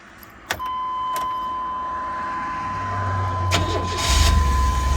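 A 1997 GMC Savana van's engine cranks and catches after a thermostat change, settling into a steady low idle that grows slightly louder and fuller toward the end, heard close up with no talk.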